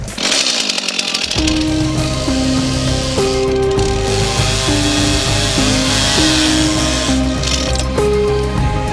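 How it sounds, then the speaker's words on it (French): A chainsaw roars continuously after a brief quiet start, its engine pitch rising and falling as it cuts steadily through a tree being felled, loud and close. "Tronçonneuse à l'horizontale."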